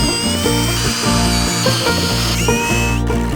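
A power tool whirs steadily while screws are driven during the building of a wooden greenhouse at a country cabin, a loud continuous motor whine with slight pitch shifts and no voices.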